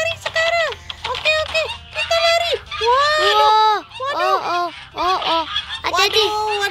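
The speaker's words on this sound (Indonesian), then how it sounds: "kita dikejar angsa" Geese in an Upin Ipin video game honk in a rapid run of loud, nasal calls while chasing the player, the honks bunched and overlapping across the whole stretch.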